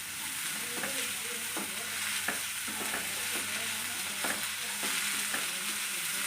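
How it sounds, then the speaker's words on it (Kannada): Greens and masala sizzle in a very hot pan with the gas switched off, a steady broad hiss broken by periodic scraping stirs, with no talking. "ಅದರಲ್ಲೇ ಈ ಸೊಪ್ಪೆಲ್ಲ ಮಸಾಲೆ ಆಲ್ರೆಡಿ ಫ್ರೈ ಆಗಿದೆ"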